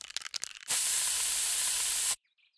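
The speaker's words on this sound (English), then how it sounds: "I will pepper spray you back to the Stone Age." A can of pepper spray lets out one loud, steady hiss lasting about a second and a half in South Park: The Stick of Truth. Brief in-game sounds come before it, and it cuts off sharply into near silence.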